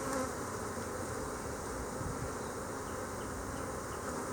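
Honey bees swarm around an opened hive during queen cell removal, filling the air with a dense, continuous buzzing hum, close and steady throughout.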